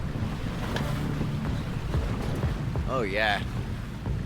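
A sailboat under jib alone moving at sea, with steady wind and water noise filling the background and someone speaking briefly near the end.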